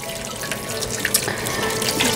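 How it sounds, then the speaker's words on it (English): Tap water runs steadily over broccoli being rinsed in a kitchen sink, a continuous close splashing rush with small drips and spatters, and no voices. "So just make sure that you wash that broccoli and make sure that you rinse that thoroughly"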